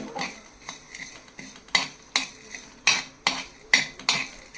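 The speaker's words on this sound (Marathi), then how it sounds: "हे धने, जिरे आणि बडीशेप ही थोडी आपण आहे ना भाजून घेणार आहोत, रोस्ट करून घेणार आहोत." Coriander, cumin and fennel seeds dry-roasting in a pan, with a spoon stirring and scraping in a steady rhythm of sharp metallic clinks, close and distinct over a quiet background.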